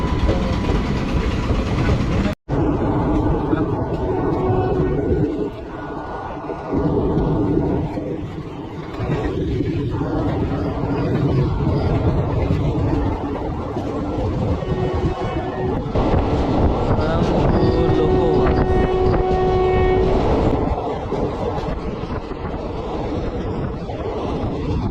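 A freight train bound for Bokaro passes close by with loud, continuous rumbling and clattering wheels, joined briefly by a steady horn-like tone, while someone talks at times.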